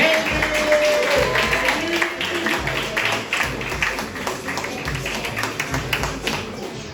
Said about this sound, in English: Would you please start clapping your hands right now for Mazany?